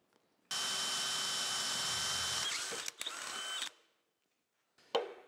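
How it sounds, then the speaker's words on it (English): A power drill bores a hole through metal while a hydraulic press is being retrofitted with a table lifting winch, a loud steady whine for about two seconds, then a few short bursts as it stops and restarts briefly. "So let me go ahead and drill a hole through here."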